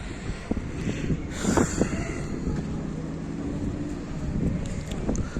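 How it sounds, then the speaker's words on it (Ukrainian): Evening wind in Mindelo buffets the microphone outdoors, a rough low rumble with occasional gusts and scattered background noises. "На вечір ще більше вітру, трошки свіжості"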